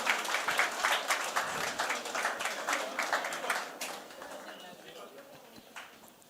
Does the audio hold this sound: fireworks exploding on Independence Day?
no